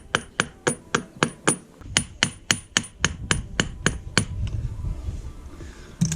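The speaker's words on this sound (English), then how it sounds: "You don't want to hit it too hard with a hammer because it's only made of soft aluminum." A hammer taps the soft aluminum housing of a Yanmar SD31 saildrive during oil seal work, about fourteen sharp, evenly spaced metallic knocks close by, then a quieter scraping rumble.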